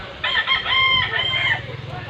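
A rooster crows once, a loud, close, drawn-out call lasting over a second, with a low background hum and soft clucking.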